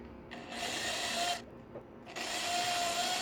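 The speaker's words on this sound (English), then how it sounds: "Okay, I have the drill ready to go." Two bursts of a power drill boring into a bicycle frame, with a short pause between them. The whine is steady and fairly close.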